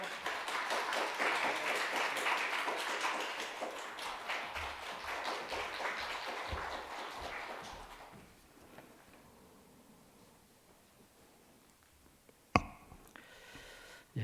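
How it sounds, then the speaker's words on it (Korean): A church congregation at a Sunday worship service bursts into dense, sustained applause for about eight seconds, then it fades into a quiet room broken by one sharp knock near the end. "박수 드리겠습니다."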